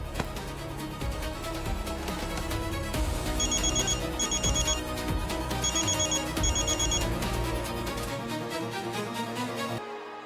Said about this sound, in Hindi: विक्रम, तुम मेरा फोन क्यों नहीं उठा रहे थे?